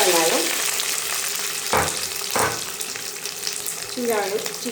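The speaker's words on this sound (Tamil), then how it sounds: "நல்லா கருவேப்பிலை பொரிஞ்சிச்சு" Loud, close sizzling of curry leaves and onions frying in hot oil for fish curry, with a few scraping stirs of a spoon against the pan.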